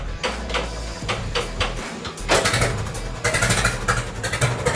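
An engine is hand-cranked to start: repeated rough chugging and clattering bursts over a low mechanical hum, with a louder, busier stretch of cranking in the second half.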